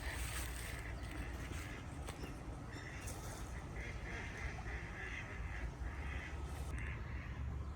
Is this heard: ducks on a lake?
yes